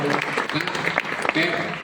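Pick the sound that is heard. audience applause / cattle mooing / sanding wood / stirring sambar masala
audience applause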